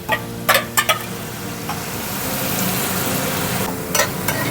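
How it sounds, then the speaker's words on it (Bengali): Spices with salt and turmeric sizzling as they fry in a pan for a spicy fish curry, a steady close hiss broken by a few brief stirring scrapes near the start and end. "মশলাটা এবার কষিয়ে নিই লবণ হলুদও দিয়ে দেবো"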